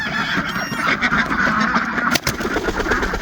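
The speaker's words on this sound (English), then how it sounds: "What was that, little white duck?" A white duck quacks inside a busy barn in the morning, mixed into a loud, dense chorus of honking geese and other fowl that runs steadily throughout.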